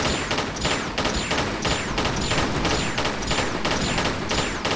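Pistol shots in Tomb Raider 4: The Last Revelation during a giant scorpion fight in Menkaure's Pyramid, a steady rhythm of about nine evenly spaced sharp reports, each followed by a short metallic ring, over a constant noisy background.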